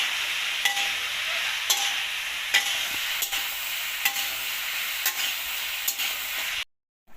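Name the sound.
rice being fried in a pan for rice flour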